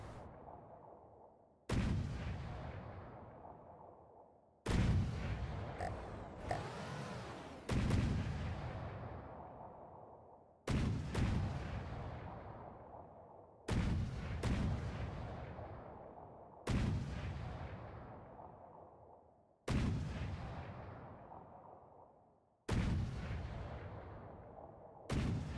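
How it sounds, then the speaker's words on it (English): A CIWS gun in the naval combat game From the Depths fires in booming, heavy reports, about eight of them spaced a few seconds apart, each decaying slowly, loud and without talk. "this gun's firing."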